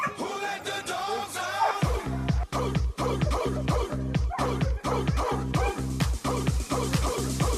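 Several dogs at an outdoor medicated dog bath held at a dog park bark, yip and whimper nearly nonstop, close and fairly loud in a steady, rapid series, with a faint voice beneath them.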